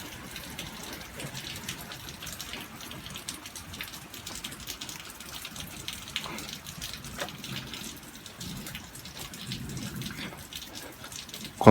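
Steady rain on a stormy thunderstorm night, a soft continuous patter and trickle of water heard from indoors, faint and even throughout with a brief louder knock at the very end.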